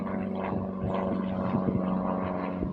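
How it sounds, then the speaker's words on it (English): A propeller airplane drones overhead at an outdoor battlefield site, a steady engine hum with a low rumbling tone that swells slightly, fairly loud, with no talking. "I don't know if you saw that plane or what."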